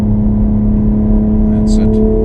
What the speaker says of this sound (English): And now get on the gas. Accelerate now.